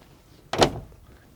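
Cab door of a Liugong CLG 922E excavator opens with a single short latch clunk and rattle, near and fairly loud, over a quiet background.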